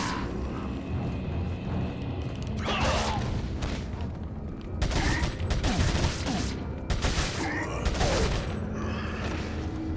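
TMP submachine gun fire in Resident Evil 4 arrives in several rapid bursts mixed with in-game crashes and impacts, loud and close, with short quieter gaps between volleys.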